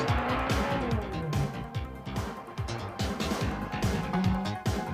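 A race car climbs the loose gravel road of Pikes Peak, engine revving and shifting through repeated bursts, tires scrabbling on the dirt as it powers close by.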